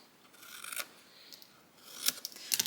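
Scissors snip off the outside corners of a paper Christmas ornament, a few quiet, close crisp cuts separated by brief pauses.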